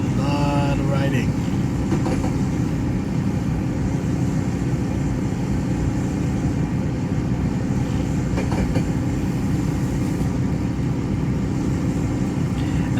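A steam train in a railway video game rumbles along the rails with a continuous, fairly loud rolling noise and faint rattles throughout, and no clear speech over it.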